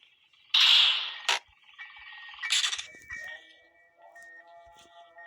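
A dog gives a few sharp yelps and whimpers near the mic, with short pauses between them and faint scuffling in the quiet gaps.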